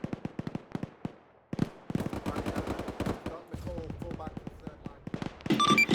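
Heavy machine gun fire in an Arma 3 battle, sustained bursts of rapid gunshots and scattered explosions, loud and close, with voice chat heard over the shooting.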